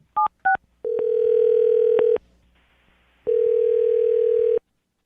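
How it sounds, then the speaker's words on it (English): A landline handset beeps through a couple of short dialing tones, then a steady dial tone sounds, cuts out briefly and returns, each tone loud, clean and close. "I'm going to dial her phone number right now"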